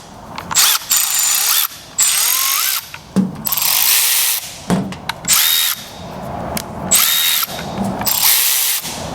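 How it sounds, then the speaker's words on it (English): A new extended-reach ratchet runs in repeated loud, close bursts of buzzing mechanical whir, each lasting about a second with short gaps between, and no talk. "That's where the extended reach ratchet comes in, I guess,"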